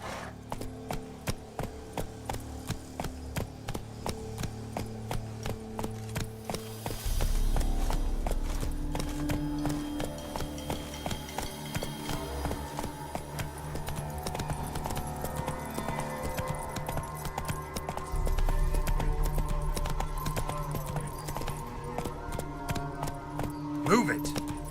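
Hooves of the horse Roach clip-clop in a steady rhythm through a Witcher 3 game scene, a continuous beat with louder stretches as the pace picks up, over game music and ambience.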